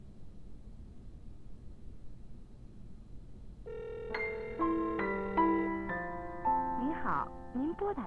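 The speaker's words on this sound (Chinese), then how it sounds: "电话正在通话中" A telephone line gives a run of electronic tones after a few seconds of quiet background hiss, the steady notes stepping between pitches and growing a little louder toward the end.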